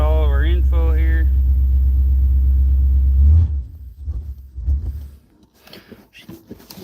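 A cold Ford Thunderbird engine with an open racing carburetor and no choke idles in a loud, deep rumble for a few seconds, then cuts out, leaving faint clatter and low noises; a brief high tonal sound opens the stretch.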